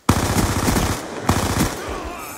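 MP7 submachine gun fired in a first-person shooter video game, rapid automatic bursts of close, loud gunfire, one long burst then a second after a brief pause.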